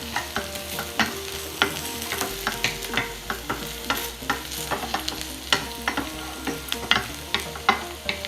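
Onions fry and sizzle in a hot pan for a stir-fried tofu dish, with a steady crackle broken by regular sharp stirring scrapes and clicks, close and moderately loud with no talking.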